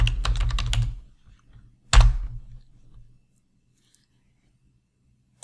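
Quick burst of keystrokes on a computer keyboard, typing a folder name in a Google Forms tutorial, then a second short flurry of keys; close and dry, with silence after.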